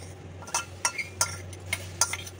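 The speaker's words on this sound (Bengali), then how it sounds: "এই যে লঙ্কা বাটাটা, এটা এবার দিয়ে দেবো আমি, এটা ঝাল ঝাল হবে খেতে" A utensil knocks and scrapes several times against an oiled wok while chili paste is added to dal, giving sharp metallic clinks in an irregular rhythm over a low steady hum.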